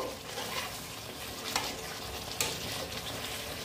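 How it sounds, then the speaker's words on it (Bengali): Chicken being stirred with biryani masala in a pan, a steady soft sizzle under scraping spoon strokes, with two sharper scrapes standing out, no talk. "এটাকে ভালো করে মিশিয়ে দেব"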